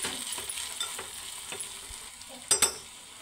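A potato fry sizzles softly in a pan while being stirred. Scraping strokes come at an irregular rhythm, with a couple of sharper clinks near the end, fairly quiet and close.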